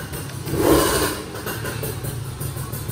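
A 2011 Kawasaki Ninja 150RR SE two-stroke with a 28 mm carburetor runs on a dyno, its engine note swelling briefly and then settling into a steady, fairly loud drone.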